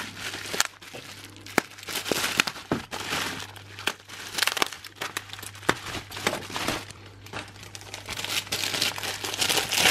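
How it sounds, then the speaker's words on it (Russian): Bubble-wrap packaging around a parcel crinkles and crackles as it is unwrapped by hand. The crackling is close and continuous, with sharp bursts and rustling throughout. "Много пупырки."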